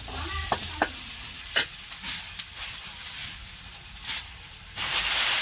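Onions fry in a pan with a steady close sizzle, broken by a few spatula scrapes and clanks, swelling louder toward the end, no talk.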